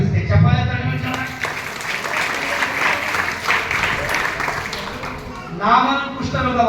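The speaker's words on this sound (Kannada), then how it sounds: "ಚಪ್ಪಾಳೆ" A church congregation in Bidar bursts into loud clapping during a pastor's sermon. The applause runs for several seconds between stretches of the preacher talking.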